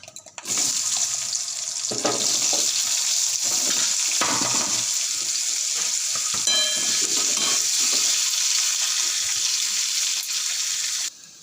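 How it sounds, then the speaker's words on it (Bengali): Potatoes frying in hot oil in a pan, a loud continuous hiss and sizzle from start to finish, with a few faint stirring clinks and no speech. "এবার আমি আলুগুলো আলুগুলো ভেজে নেব"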